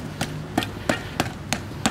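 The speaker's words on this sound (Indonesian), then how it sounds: "setelah itu kita akan memukulnya menggunakan palu karet" A rubber mallet taps the side of a steel concrete cylinder mold filled with fresh concrete, six dull, evenly spaced knocks about a third of a second apart.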